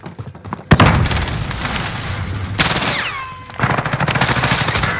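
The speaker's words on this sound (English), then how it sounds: "Throwing grenade." A grenade goes off in Call of Duty: Modern Warfare Warzone, a sharp loud blast near the start followed by sustained bursts of battlefield gunfire and rumbling debris, with further firing continuing to the end.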